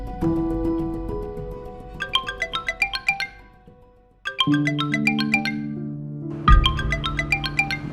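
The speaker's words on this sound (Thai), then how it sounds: "คุณคะโทรศัพท์ค่ะ" A phone ringtone plays a bright, bell-like chiming melody in repeated bursts, with a lower held tone under some phrases and a short pause between rings.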